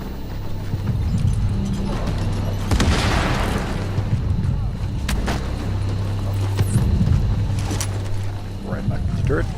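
A hacked turret detonates in a stealth video game set in a Russian consulate: a single booming blast lands amid steady low game rumble, with a sharper crack following a couple of seconds later.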